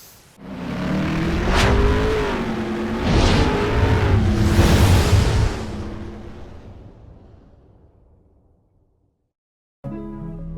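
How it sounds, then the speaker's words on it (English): A Chery Tiggo 2 Pro's 1-liter turbocharged engine revs hard and accelerates close by, pitch climbing through gear changes, then fading away into near silence before a brief return of noise. "meet the Chery Tiggo 2 Pro equipped with a 1-liter turbocharged engine"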